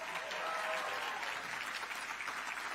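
An audience at the 2024 Anti-Monopoly Summit cheers and claps for MC Morgan Harper, a dense, steady burst of applause filling the room for a few seconds with no speech over it.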